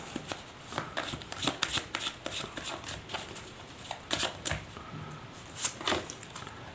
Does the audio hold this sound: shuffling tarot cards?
yes